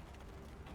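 Brief mechanical rifle reload in the World War II shooter Easy Red 2, a short muffled metallic ratcheting clatter of the bolt and magazine, low and faint.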